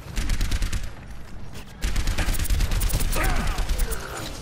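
Torbjörn's turret in Overwatch fires rapid, mechanical bursts of shots up close, a steady rattling stream with a short break midway and other game effects layered in.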